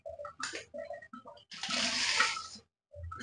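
Water gushes and drains from a health faucet hand-shower fitting that has just been opened, a loud rushing burst after short clicks and handling noises, then stopping abruptly.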